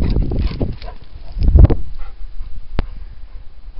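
A dog whimpers and gives short yips during an outdoor walk, with a loud burst of vocal noise near the middle and a sharp click later, all close and fairly loud.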